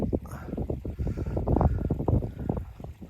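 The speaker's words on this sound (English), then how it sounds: "The wind's picking up." Strong wind gusts buffet the microphone outdoors during a rough hillside walk, producing a steady, uneven low rumble with repeated loud surges close up and no talking.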